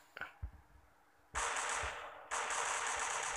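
Gunfire in the mobile shooter game Standoff: a couple of sharp single shots, then two long loud bursts of rapid automatic fire, close and harsh, with no talking.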